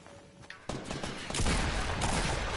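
Gunfire in the video game Rust, a dense loud burst of shots that swells and keeps going after a short quieter start.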